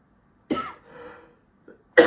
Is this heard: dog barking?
no